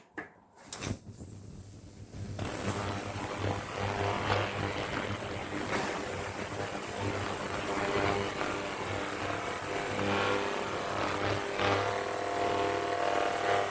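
An ultrasonic cleaner fitted with a new, quieter replacement generator runs steadily after switching on, giving a continuous broadband hiss with a low hum beneath it that holds level throughout.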